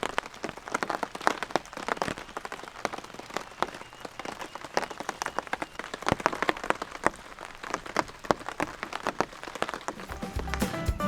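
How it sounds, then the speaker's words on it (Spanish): Steady rain falls on an island, a dense, crackling patter of drops striking nearby surfaces that continues without a break, loud and close, with no voices. "no para de llover"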